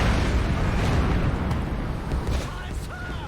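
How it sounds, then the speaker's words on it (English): Incoming artillery fire in the War Mongrels video game sets off a loud, rumbling explosion that dominates at first and then slowly decays, with a few faint crackles near the end. "Incoming artillery fire!"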